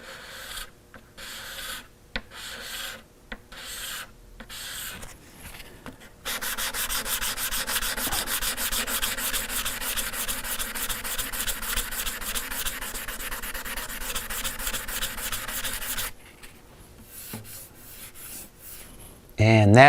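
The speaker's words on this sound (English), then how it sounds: "then you can continue on sanding" Hand sanding the finish on a guitar: short rhythmic scrubbing strokes, then a long continuous stretch of steady rubbing, then more short strokes, close up and fairly quiet.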